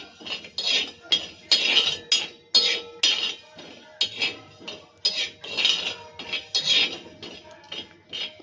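Mustard seeds and cumin dry roasting in a pan, stirred with a metal spoon that clinks and scrapes against the pan in a quick, rhythmic series of about a dozen close, bright strokes.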